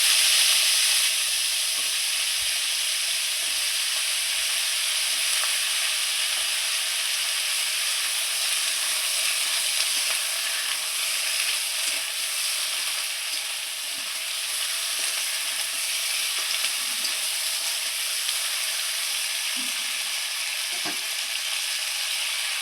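Potatoes and vegetable stalks frying in hot oil for a chorchori, a loud, steady hissing sizzle close by for the whole stretch, with occasional faint clinks of a utensil.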